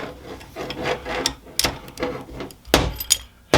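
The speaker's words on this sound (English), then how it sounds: "I'm going to use my wrenches." Wrenches turning and tightening a fitting on an aftermarket transmission cooler install kit, a close series of scraping, grinding strokes and metallic rubs in uneven bursts, loud and with no talk.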